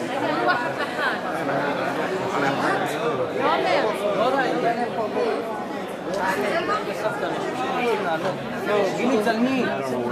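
Tourists at Juliet's balcony in Verona chatter as a dense, steady crowd babble, many overlapping voices close by and continuous throughout.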